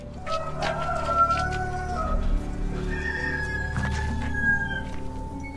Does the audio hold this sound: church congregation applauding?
no